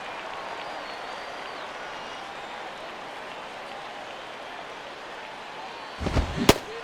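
A sparse crowd in the MLB 11: The Show video game cheers in a steady, moderate roar, and a few sharp loud cracks break out near the end.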